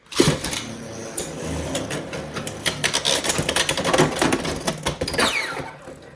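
Beyblade X spinning tops clash metal blade on metal blade, a Blast Blade setup against another top in a competitive stadium match, giving a close, rapid run of sharp metallic clicks and rattling hits over a steady whirring spin.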